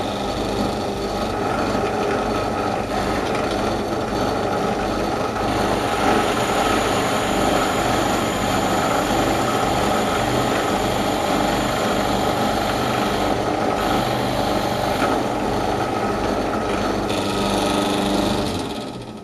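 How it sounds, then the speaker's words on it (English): An electric drill with a 5mm bit whirs steadily through hard epoxy for the whole stretch, a constant grinding drone with slight wavering in pitch, loud and close, no voices. "drill through the hard epoxy using the same 5mm"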